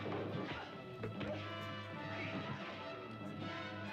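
Cheap prop chairs smash apart during a fistfight in a 1950s science-fiction serial, giving a dense, continuous clatter of breaking wood and impacts with scuffling, loud and close throughout.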